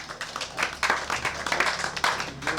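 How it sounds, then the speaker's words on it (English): A short burst of applause from an audience at an office inauguration event, uneven hand claps rising and falling for a couple of seconds with no talking. "Can we clap for ourselves?"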